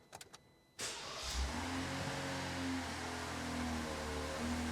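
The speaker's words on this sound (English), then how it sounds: "I am gonna start up the vehicle." Ram truck with the Hurricane 3.0 twin-turbo engine starting up: a quick crank catches into a loud, steady idle hum after a few faint clicks, running close by with no talk.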